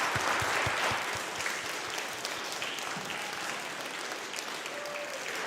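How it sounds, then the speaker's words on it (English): A school awards ceremony audience applauds the parents, a full, sustained round of clapping from a crowd that gradually thins and softens toward the end. "Let's give our parents a round of applause."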